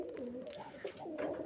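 Pigeons kept for sale at a house in Beldanga, Uttarpara coo in low, rolling, throaty phrases, close and steady, with a soft flutter of faint background noise.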